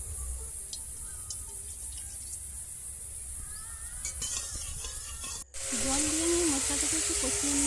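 Water pours into a hot pan of snakehead fish curry seasoned with turmeric, chili powder and tomato sauce. It sets off a sudden loud, hissing sizzle over the steady background frying.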